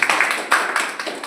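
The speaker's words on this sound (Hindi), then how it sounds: "इनके लिए जोरदार तालियां।" Brief burst of applause from a group of trainees at a safety training session, dense overlapping claps fairly close and loud, fading slightly toward the end with no talking.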